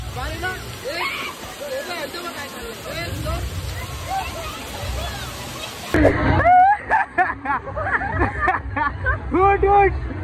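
Water splashing and sloshing at a busy water park, a constant rushing wash under crowd babble, then close splashes and excited voices of people talking and shouting over the spray.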